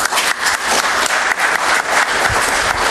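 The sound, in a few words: audience applause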